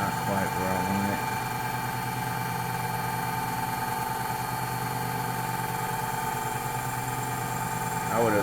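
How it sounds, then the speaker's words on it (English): A 24-volt electric motor drives a generator through a band-saw belt, giving a steady machine hum with a tonal whine that holds throughout, close and continuous, while a person talks briefly at the start and near the end. "That's running 24 volts on this motor. It's running that motor."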